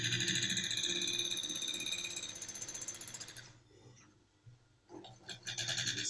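A sewing machine stitching a zipper onto trousers, its needle mechanism chattering in a rapid rhythmic whir that stops briefly, then restarts in short bursts.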